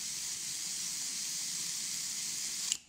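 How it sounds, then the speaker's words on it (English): An airbrush sprays paint onto a custom muskie crankbait lure in one steady, close hiss that holds for about three seconds and then cuts off. "our airbrush, and we can spray the eye"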